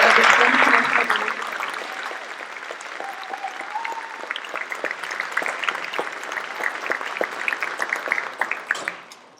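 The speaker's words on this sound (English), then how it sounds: "please give a round of applause to the newly inducted members of the Anthony chapter of the Spanish National Honor" An audience at a Spanish National Honor Society induction ceremony gives the new members a round of applause. Dense clapping starts loud, settles into steady applause and fades out at the end, with a few voices mixed in.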